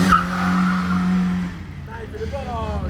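A powerful car revs and accelerates with squealing tires, its engine note rising and climbing in pitch toward the end, loud and near, while excited people talk in French over it.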